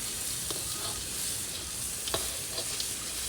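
Oil sizzles and crackles steadily in a hot pan as a tempering and potatoes with beans fry, with occasional sharp pops and faint stirring scrapes.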